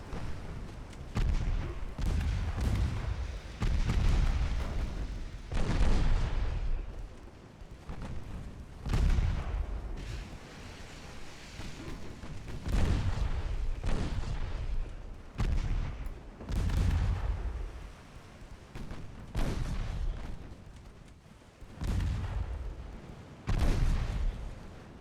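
Heavy 8-inch naval gun rounds boom repeatedly in a Ultimate Admiral Dreadnoughts sea battle set in 1896, deep loud blasts recurring every few seconds with rumbling tails, no voices.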